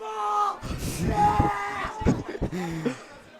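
Excited voices scream and yell loudly in a burst of crowd noise at a Spartans versus Northampton football game, with rising and falling whoops over a few seconds.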